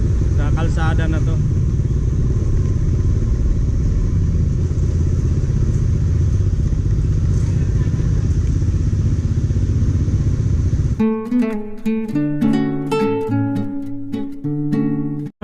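A motorcycle is ridden over a bumpy, potholed road, its engine droning loud and steady with clattering jolts for about eleven seconds before music takes over.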